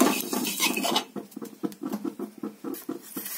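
Light, irregular scraping and clinking of a spoon stirring carom seeds (ajwain) in a pan over a low gas flame, soft and close, with a few gentle taps.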